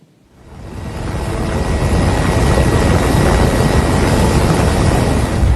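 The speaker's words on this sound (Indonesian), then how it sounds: "helikopter EC-725H225M Karakal TNI Angkatan Udara melakukan pendaratan terbatas" A TNI Air Force EC-725 (H225M) Caracal helicopter makes a limited landing in Gayo Lues, Aceh, during flood relief. Its loud, steady rotor and engine roar swells quickly at the start, then holds close and constant with no voices.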